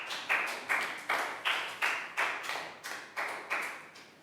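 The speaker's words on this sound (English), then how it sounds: "Big round of applause for Lakgow" Classroom applause for a student during a Year 3 math lesson, heard as about ten evenly spaced, crisp claps or taps in a steady rhythm, fairly quiet and close.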